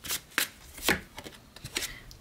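Oracle cards shuffled by hand at close range, a few quick riffling bursts and soft slaps of card against card, irregular and fairly quiet, with no talk.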